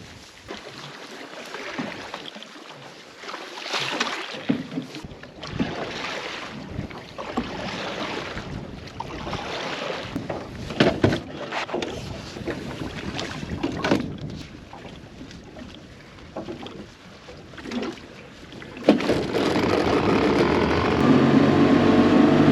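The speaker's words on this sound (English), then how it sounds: "Got a bit of a chop on the way back here, a little bit of wind, a little bit of waves" Small boat pushing across choppy water in gusty wind, with a steady engine drone, hull slaps and rushing wind noise on the microphone; spray and wind grow louder near the end.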